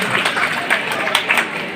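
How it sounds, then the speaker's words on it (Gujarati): A crowd at an Ahir community reunion gathering in Surat claps together in a brief, dense burst of applause, close and fairly loud. "જોરદાર તાળીઓથી વધાવી લઈએ."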